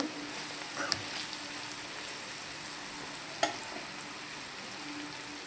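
Cluster beans cooked with chili powder, salt and turmeric fry in a pan with a steady, soft hiss and faint crackle, plus a single sharp clink of a utensil partway through.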